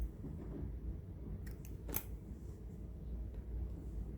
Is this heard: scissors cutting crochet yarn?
yes